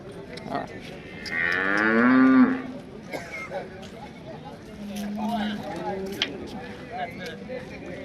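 A black cow moos loudly at a cattle market, with one long drawn-out low from about 1.5 to 2.5 seconds and a shorter, fainter moo later, under background chatter and crowd noise.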